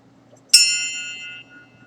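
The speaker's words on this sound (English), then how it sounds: "One thing I find really helpful is a bell." A small hand-held ritual bell used in Wiccan practice gives a single bright, clear strike that rings on and slowly fades over about a second, close by in a quiet room.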